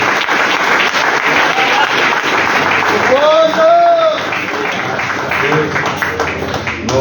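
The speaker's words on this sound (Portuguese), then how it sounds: "dê a sua melhor salva de palmas para Jesus" Church congregation standing and applauding, a dense wash of clapping from a large indoor crowd, loud and sustained, with a voice speaking over it and a brief sung or shouted tone in the middle.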